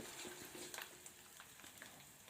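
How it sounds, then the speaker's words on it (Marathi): Ground spice masala sautéing in hot oil in a home kitchen, a faint steady sizzle with small crackles and occasional stirring taps, heard alone without talking. "हा मसाला या तेलावरती छान असा परतून घ्यायचा आहे"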